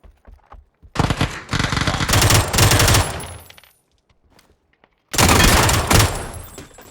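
Rapid automatic gunfire from the battle royale game PUBG, loud and close, coming in two long bursts of rattling shots separated by a near-silent pause.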